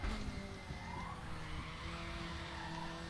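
Mercedes CLK 2003 DTM race car skidding at Watkins Glen in a racing simulator, a steady loud roar of engine and tyre scrub lasting throughout with no pauses.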